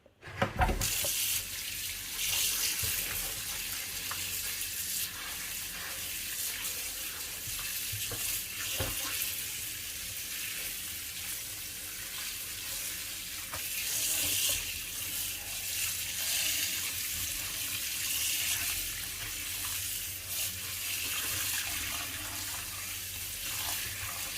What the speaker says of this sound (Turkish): Şimdi çok soğuk değil, sıcak da değil, ılık suda birkaç kez durlayacağım